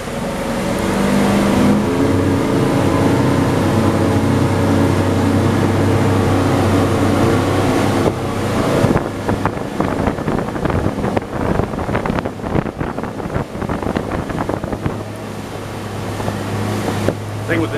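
A Grady White Express 330 motorboat takes off on the Peace River on a December day: a steady, close engine drone gives way midway to buffeting wind and rushing water as the boat gains speed.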